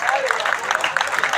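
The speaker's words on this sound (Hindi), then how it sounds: "तालियां जोरदार होनी चाहिए दोस्तों।" Audience applause fills a poetry gathering at Jashn e Poetry, a dense, steady wash of clapping from a crowd, with a voice speaking over it.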